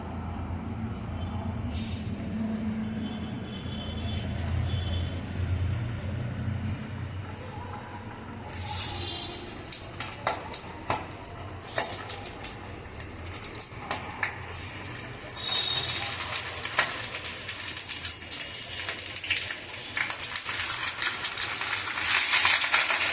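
Paneer paturi parcels are laid one by one into hot mustard oil in a pan, setting off a steady, crackling sizzle with sharp pops that grows denser and louder as more pieces go in.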